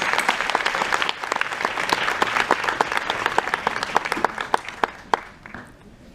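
Audience applause welcoming a speaker to the stage at a graduation reception, steady dense clapping from a room of people that thins and fades toward the end.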